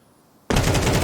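In Counter-Strike 2, a rifle fires through a wall during a professional esports match. After half a second of near silence, a loud, rapid burst of automatic gunfire cuts in abruptly and keeps going.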